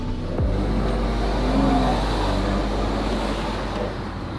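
A 2018 BMW M140i engine runs roughly while the car is driven, a loud continuous low drone and road rumble with uneven warbling tones throughout, with no voices.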